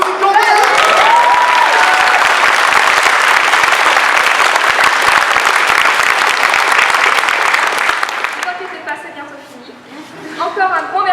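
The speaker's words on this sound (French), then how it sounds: "On applaudit" A large audience at a French lycée student theatre production breaks into loud, sustained applause and cheering for about eight seconds, then it fades as a voice starts speaking.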